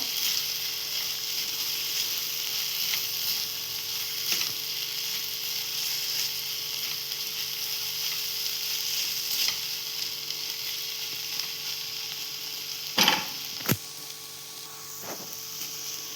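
Masala spices frying for a sweet, sour and spicy chutney in a pan over a low gas flame: a steady, close hiss of sizzling with a few brief clicks and scrapes near the end, and no talking.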